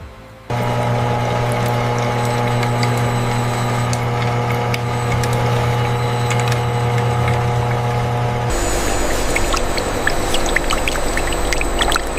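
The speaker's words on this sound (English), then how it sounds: "Milky white soap base fills the primary collection vat from multiple" Milky white soap base gushes steadily from multiple pipes into a factory collection vat, a continuous loud pour over a steady machinery hum that shifts abruptly to a splashier, broader rush near the end.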